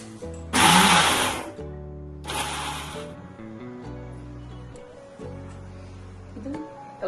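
A kitchen mixer grinder grinds toor dal for chutney powder in two short, loud whirring bursts, each followed by a quieter humming stretch as the motor runs down.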